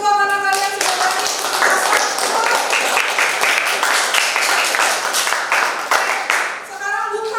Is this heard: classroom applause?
yes